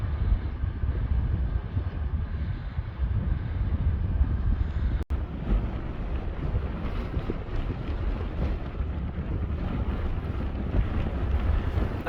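Strong wind at a wind farm with old downwind turbines, a constant loud roar and buffeting against the microphone, steady throughout with one brief dropout.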